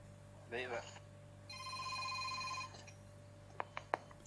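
A telephone rings during a class lecture: a steady electronic ringtone with stacked tones, preceded by a brief voice, followed by a few sharp clicks, fairly faint against a low hum.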